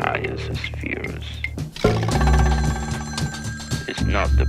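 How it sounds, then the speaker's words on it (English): A telephone rings in repeated bursts, mixed with a dense layer of other dramatic sounds and low rumbles, fairly loud and close. "Everything starts with a phone call."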